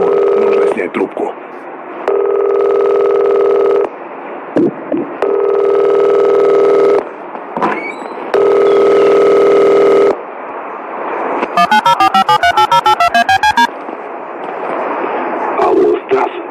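A telephone in the game Reporter rings loudly in repeated long electronic bursts separated by short pauses, followed by a brief rapid run of warbling tones, with a voice speaking in between.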